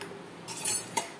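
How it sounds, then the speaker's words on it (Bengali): A spoon stirs salt, turmeric and white oil into hot water in a pot for masala Maggi, giving a few faint, quick metallic clinks over quiet background. "সাদা তেল দিয়ে ভালো করে খুব মিশিয়ে দিলাম"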